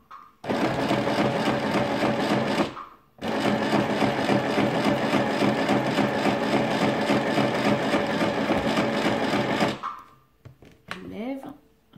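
Sewing machine stitching homemade makeup remover wipes, loud rapid mechanical chatter in two long bursts with a short pause between, followed by quieter handling sounds.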